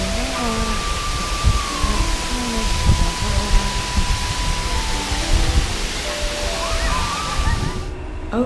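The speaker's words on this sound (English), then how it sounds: "walking in the water." Footsteps wading through water in Cambodia, a continuous close sloshing and splashing with irregular heavier surges, fairly loud and unbroken throughout.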